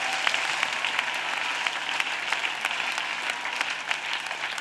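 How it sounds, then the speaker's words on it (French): Audience applause at a Christian intercession and evangelisation gathering, a dense, steady wash of many hands clapping throughout, fairly loud and sustained with no talk over it. "Clap for Jesus Christ."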